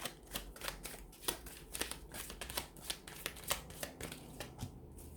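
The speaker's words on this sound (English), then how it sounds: "we'll go ahead and give the cards a shuffle" Tarot cards shuffled by hand in a quick, riffling rhythm, repeated close-up snaps and flutters for several seconds with no talking.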